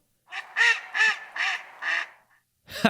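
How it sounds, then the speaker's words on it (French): A duck quacks five times in a steady rhythm, close and clear, followed by a brief start of another sound. "Un canard."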